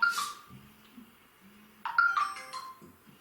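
A mobile phone rings during a church sermon, giving a short electronic ringtone melody of bright beeping notes at moderate loudness in an otherwise quiet room.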